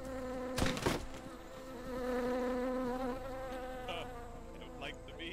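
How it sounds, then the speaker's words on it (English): Bees in a video game set during a Caribbean native adventure, buzzing steadily as a continuous insect drone with a harmonic whine, broken by a sharp burst near the start and light clicks toward the end. "Oh my goodness! Bees!"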